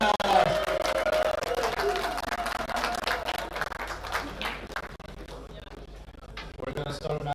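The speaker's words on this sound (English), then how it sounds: "I want to hear a big applause for the team that's making this event happen, OrangeForks Production" A crowd applauds the production crew at the 2025 OrangeForks Open pool tournament, a broad wash of clapping that is loud at first and thins out over several seconds while an announcer talks over it.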